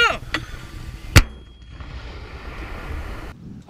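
Live-fire training with ROK Army 60mm, 81mm or 107mm mortars: a single sharp, loud mortar launch blast cuts through steady outdoor background noise, with faint distant booms and shouted field commands around it.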